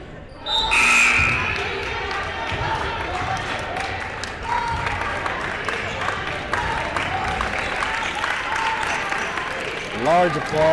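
Crowd applause ripples through a gym at a girls' high school basketball game as players head to the bench, with a commentator talking over the clapping and sneakers squeaking near the end.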